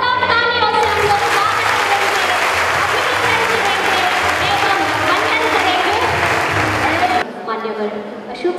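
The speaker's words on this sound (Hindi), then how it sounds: "अशोक सिंघल जी भाई साहब का जोरदार तालियों से हम लोग" Loud, sustained applause from a large audience at a Vishva Hindu Parishad gathering in Chitrakoot honouring a leader, dense clapping throughout with a voice entering over it near the end.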